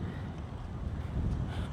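Strong wind buffets the microphone with a constant low rumbling roar, loud and unbroken.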